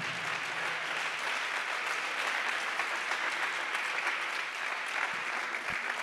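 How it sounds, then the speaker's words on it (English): A church congregation claps hands steadily in dense, continuous applause that holds at an even level for several seconds, with a few distinct claps near the end. "Come on, clap your hands if you're thankful for the gospel."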